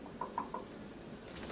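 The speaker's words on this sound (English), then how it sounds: "I'll knock." Three quick, light knocks sound on a house door, evenly spaced and somewhat distant against a faint background hum in a quiet setting.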